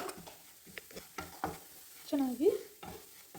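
A spoon stirs flour into melted butter in a pan, making quiet, repeated scraping strokes with a faint sizzle. A voice speaks briefly.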